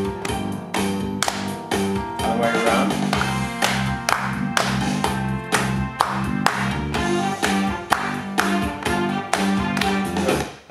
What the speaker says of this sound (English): just play, clap what you think is a useful beat